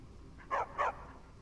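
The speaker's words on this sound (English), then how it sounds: "Oh my gosh, he has dogs." Two quick barks from a dog in the Skyrim video game, close together and moderately clear over a steady hiss of background noise.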